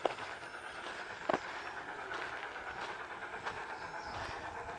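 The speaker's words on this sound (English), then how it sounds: "There goes a little train" A small train rolls past below mountains near a village, a faint, distant rumble and hiss with a few light clicks and clacks, heard alone and without speech.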